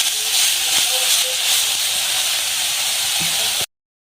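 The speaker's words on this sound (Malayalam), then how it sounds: "ഇനി ഇതിനകത്ത് നമുക്കൊന്നുകൂടെ വഴറ്റിയെടുക്കാം." Chopped banana flower sautés in coconut oil with a loud, continuous hiss and sizzle close by, broken by a few soft stirring knocks, before cutting off abruptly into silence.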